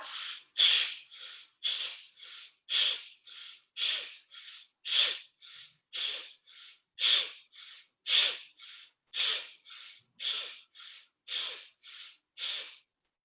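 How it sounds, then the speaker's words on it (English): Rapid, forceful yoga breathing rounds: about twenty sharp, rhythmic nasal exhalations, evenly spaced and close, each a breathy hiss with silence between. "Keep breathing."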